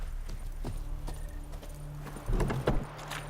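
Horse hooves clip-clopping in The Witcher 3 video game, a few uneven thuds and clops at moderate distance over a steady low ambient hum, with a brief louder cluster of steps near the end.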